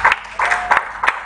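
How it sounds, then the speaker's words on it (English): An audience at a church event applauds to welcome a speaker, with short, loud bursts of clapping and cheering that come in quick waves. "Welcome with me with a round of applause."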